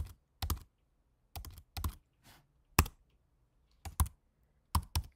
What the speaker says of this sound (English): So go ahead and enter your card number.